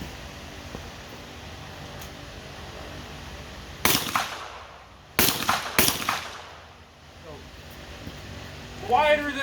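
Suppressed 9mm handgun fired at a range, three sharp broadband cracks, a single shot then a quick pair, loud and near against steady background noise with faint voices around.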